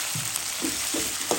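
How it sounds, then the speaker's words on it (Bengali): Ginger garlic paste hits a hot pan and sizzles with a steady crackling hiss, with a few soft stirring scrapes in the background while egg curry is being cooked. "দিয়ে দিলাম একটু আদা রসুনের পেস্ট"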